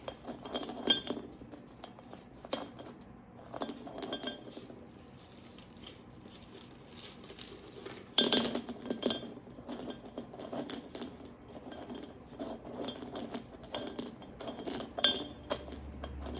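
Pebbles dropped and settled into the bottom of a clay pot while repotting a spider plant, producing scattered light clinks and rattles at close range, with quiet gaps between.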